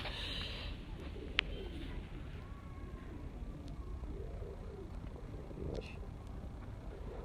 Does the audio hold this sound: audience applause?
no